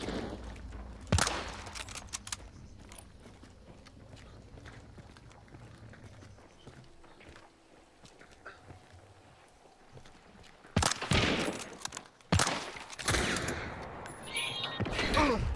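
A sharp gunshot crack early on in the video game Hunt: Showdown, then a quieter stretch followed by a burst of loud, rapid gunfire and impacts near the end.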